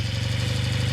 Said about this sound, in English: And then it'll just take a little while to warm up before we take it off the choke.